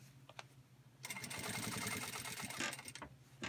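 A Singer industrial sewing machine stitches a seam in production-style sewing, a loud, fast steady mechanical whir starting abruptly after a few light clicks, running for about two seconds, then stopping.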